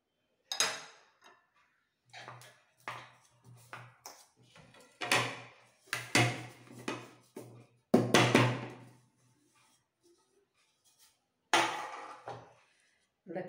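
A knife or spatula taps and scrapes around the edge of a greased, flour-coated baking pan to loosen a plum cake, giving a series of sharp metallic clinks and thuds in uneven bursts with short pauses.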